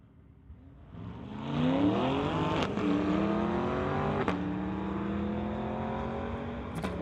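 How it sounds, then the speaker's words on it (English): A Corvette and a 2022 BMW race at a night street-legal drag event, engines roaring through rising gear pulls with sharp shift breaks, loud and sustained. "looks like it's a Corvette BMW battle here"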